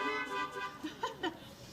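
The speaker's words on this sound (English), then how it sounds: "So give them a honk." A few short car horn toots from an audience at an outdoor gazebo music show, light honks in quick succession over a faint background.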